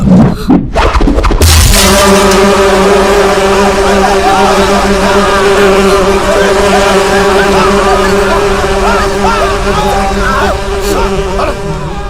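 Loud, continuous buzz of flying insects in a comedy film sound effect, steady drones holding throughout after a brief clatter at the start.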